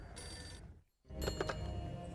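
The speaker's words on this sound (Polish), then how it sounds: "o, telefon dzwoni." Telephone ringing in the video game Max Payne: two short bursts of bright, electronic ring with a brief silent gap between them, loud over steady game background noise.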